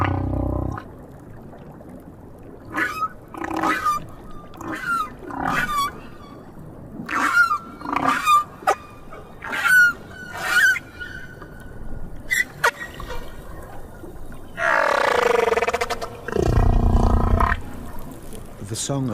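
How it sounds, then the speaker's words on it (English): Whale song from the South Pacific: drawn-out pitched moans, cries and groans rising and falling in loud phrases, ending in a broad, roaring swell. "The whales in different oceans have different songs."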